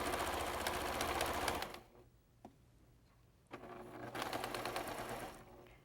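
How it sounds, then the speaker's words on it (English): A sewing machine stitches a quarter inch seam on striped quilt fabric, a close steady rapid whir that pauses briefly in the middle before running on again. "going to sew the 1/4 inch seam allowance right along that edge"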